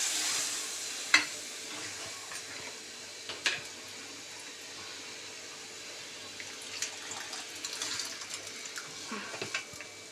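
Cooked lentils (dal) with turmeric are poured into a hot pan, giving a soft, steady sizzle and watery hiss with a few brief clinks and splashes, fairly faint and close.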